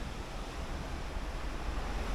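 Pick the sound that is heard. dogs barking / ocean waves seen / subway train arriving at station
ocean waves seen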